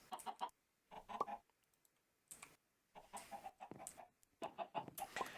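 Minecraft chickens in the Sky Factory 3 modpack cluck in short bursts separated by brief pauses, fairly quiet and heard without any talk.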